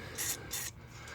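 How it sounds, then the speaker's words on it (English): Spray lubricant misted onto the top of a ball joint while replacing the passenger-side CV axle on a 2013–2017 Ford Escape, heard as two short, close hissing bursts and then a fainter third. "I'm going to spray a little bit of spray lubricant and get it started in this top of the ball joint"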